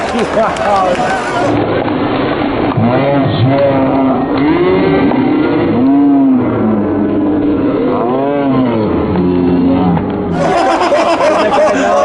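A brand new RZR side-by-side drifts up onto a banked track at a charity event, its engine revving and droning continuously and loud, with crowd noise and talk mixed in throughout.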